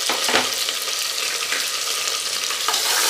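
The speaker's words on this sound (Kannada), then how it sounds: "ಫಸ್ಟು ಈರುಳ್ಳಿ ಹಾಕ್ಕೊಳ್ಳಿ ಆಮೇಲೆ ಈ ಕರ್ಬೇವಿನ ಸೊಪ್ಪು ಮತ್ತು ಹಸಿಮೆಣಸಿನ್ಕಾಯಿ ಇದು ಮೂರು ಹಾಕ್ಕೊಳ್ಳಿ" Onions, curry leaves and green chillies fry in hot oil in a pan for Ambur chicken biryani, a loud, steady close sizzle broken by a few brief stirring scrapes.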